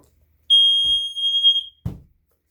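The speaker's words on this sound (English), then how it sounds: "basically as soon as the towel got damp, the alarm went off" A Watchdog water alarm trips when its sensor touches a damp towel and gives one loud, piercing steady beep lasting about a second, followed by a couple of soft handling thumps.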